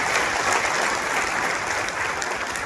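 Steady, loud applause from a large crowd at a meeting of extension officers, dense clapping sustained evenly throughout with no voices standing out.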